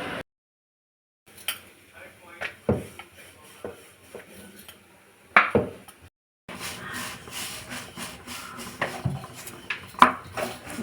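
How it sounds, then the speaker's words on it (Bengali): Kitchen clatter from cooking utensils while roti fries in a pan for a home meal: scattered clinks and scrapes of metal on a pan, a silent gap early on, then busier handling toward the end. "দেখো বন্ধুরা, রুটি ভাজছি।"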